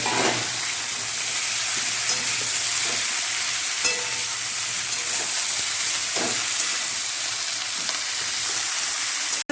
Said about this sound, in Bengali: একটা বড় সাইজের কপি নিয়েছি সেই ফুলকপি সেগুলো আমি ভেজে নেব লাল করে